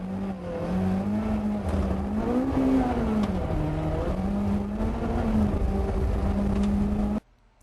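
A Ford Escort Mark II rally car pushing hard on a forest stage, its engine note rising and falling through gear changes for several seconds, loud and close before cutting off abruptly.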